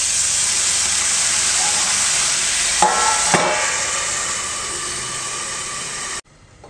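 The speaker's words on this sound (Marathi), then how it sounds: "दुसऱ्या बॅचसाठी परत आपण तव्यावरती तेल सोडणार आहोत आणि त्यामध्ये आपण हे पुढचे काप लावून घेऊया।" A loud steady sizzling hiss rises as sliced suran (elephant foot yam) fries in oil on a tawa, broken by two brief clattering knocks midway and cutting off abruptly near the end.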